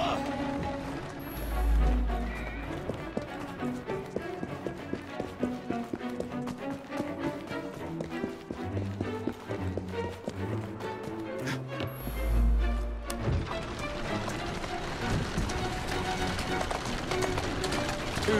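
Horse hooves clop along at a steady run in the Assassin's Creed Syndicate video game, mixed under music and other game sounds, with a voice talking at times.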